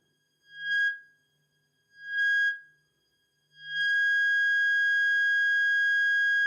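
A steady, pure audio feedback tone from a feedback loop in the NoInputMixer iOS app swells in three rising pulses, then holds loud and continuous, with a faint hiss flickering in near the end.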